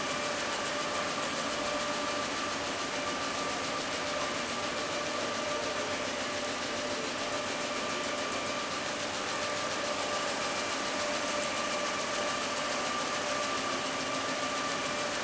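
A web printing press feeding 70-pound high-gloss paper at a 28-inch cutoff and 1,000 feet per minute, with an automated stacker, produces a loud, steady mechanical drone and whine, unbroken and without talk.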